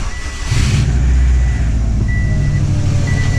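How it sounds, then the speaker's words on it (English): A Subaru car engine with overheating and misfire trouble cranks and catches, then settles into a loud, close, rumbling idle that carries on steadily. "And what I'm gonna do now is actually turn on the car."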